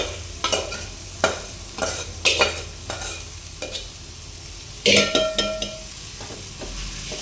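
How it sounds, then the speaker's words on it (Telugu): Chicken curry with coconut masala stirred in a pan, a series of loud scraping spatula strokes over a low sizzle, with a brief clatter of utensils near the end. "ఇది బాగా కలుపుకోవాలి. కొబ్బరి కాబట్టి మాడు పట్టేటట్టు ఉంటుంది."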